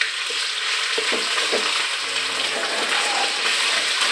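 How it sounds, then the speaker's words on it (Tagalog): Meat and garlic sautéing in a hot pan, a steady close sizzle with a few stirring scrapes throughout. "Siyempre, gigisa natin itong bawang. Lagay na lang natin yung karne."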